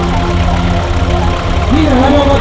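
A John Deere three-cylinder four-stroke diesel tractor with 11,000 hours on it idles loud and close at an outdoor tractor meeting, with a steady low throbbing rumble while someone talks over it.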